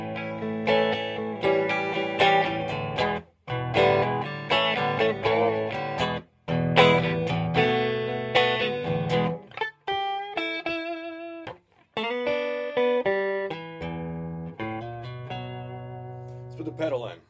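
Clean electric guitar with Porter P90 pickups played through a Quilter Tone Block 200 amp into a Mesa Boogie 1x12 cabinet, strummed chords and picked single-note lines in bursts separated by short pauses, loud and close.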